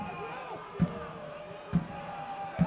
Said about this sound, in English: The crowd is loudly booing